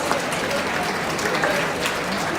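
An audience at a campus hiring event gives a round of applause to welcome guests, a steady wash of clapping at even level with some crowd murmur mixed in.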